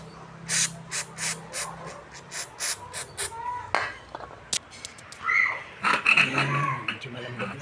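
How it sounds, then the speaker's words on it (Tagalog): Aerosol spray applied to a part during a Korean bicycle restoration, heard as a run of short, sharp hissing bursts in quick succession with pauses between them, and a voice talking over the later bursts. "Spray natin ito."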